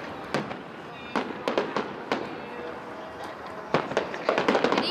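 July 4th 2013 fireworks show in Sparks, Nevada, with repeated sharp bursts and crackling pops at irregular intervals, growing denser toward the end, while spectators talk and react in the background.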